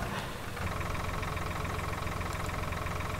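Tractor engine idling in the video game Farming Simulator 2013. A steady, loud, low-pitched rumble runs unbroken throughout with no talk over it.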